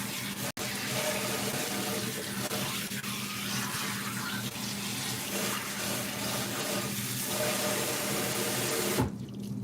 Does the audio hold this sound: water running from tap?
yes